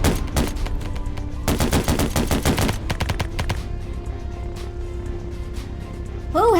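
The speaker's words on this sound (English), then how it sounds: "Who had that machine gun?" Machine gun fire in a video game comes in rapid bursts, a long rattling string and shorter volleys, loud and close, before fading into quieter scattered shots and ambient game sound.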